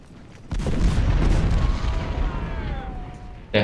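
A single heavy artillery boom goes off in Ultimate General: Civil War, a deep close blast that rolls and fades over a few seconds, followed by a sharp transient at the end.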